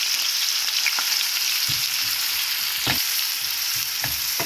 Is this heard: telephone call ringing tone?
no